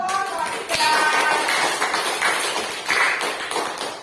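Schoolchildren at an elementary school clap together in a dense, steady patter lasting several seconds, with a few young voices rising over the noise.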